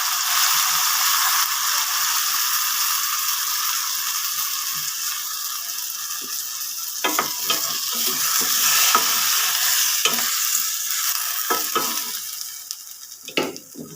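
Pieces of raw plantain sizzle loudly in a hot pan for a Kerala-style thoran, with a steady fry hiss and intermittent scraping and clinking as they are stirred.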